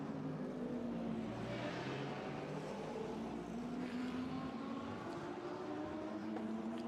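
A BMW GT race car in pre-qualifying at the 6 Hours of Jeddah, GT Europe, holds a steady engine drone and tonal whine as it runs up to the line, constant and moderately distant.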